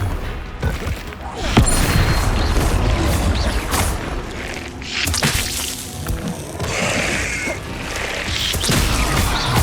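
Spell blasts from Confringo in Hogwarts Legacy burst as loud, booming explosions with crashing impacts and whooshes, coming one after another in a dense, continuous battle din.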